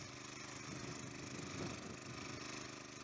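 A small walk-behind tractor digs potatoes in damp, heavy soil, its engine running in a steady, laboring drone with rough low rumble and a brief swell partway through, close by and continuous.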